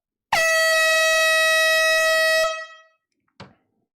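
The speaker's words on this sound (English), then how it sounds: "Air horn coming out." An air horn blares once after a sale closes at a live vinyl record auction, a loud, sustained, nearly two-second blast that fades out, followed by a brief faint knock.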